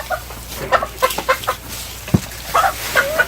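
Farmyard chickens clucking close by in short, irregular bursts, with one sharp thump partway through and a couple of higher squawks toward the end.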